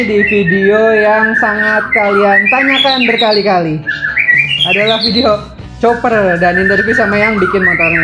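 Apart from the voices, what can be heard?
bird chirping at custom motorcycle shop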